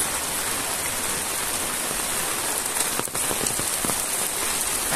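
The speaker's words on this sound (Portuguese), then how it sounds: "É muita chuva, graças a Deus." Heavy rain pours steadily onto surfaces during a rural road trip in Brazil, a dense, continuous hiss with scattered drops and no talking.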